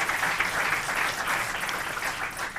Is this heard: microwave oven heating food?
no